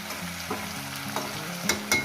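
Cauliflower and potato frying in a covered pan over a medium gas flame, a soft steady sizzle broken by a few spoon stirs and clinks near the end, with no talk.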